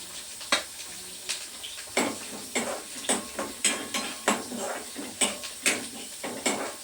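Onions frying in oil in a pan while okra sabzi is cooked, heard as a steady sizzle under a run of sharp, evenly spaced metal-on-pan scrapes and clinks from stirring, close up with no talking.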